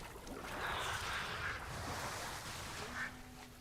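A duck in a video game gives a few soft quacks over a steady, washy water-like background, with the clearest call near the end.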